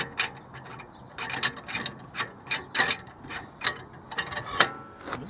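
Hand ratchet turning a bolt into a wheel bearing housing on a 2007 BMW E91 335i, a series of close, quick clicking bursts with short pauses between strokes.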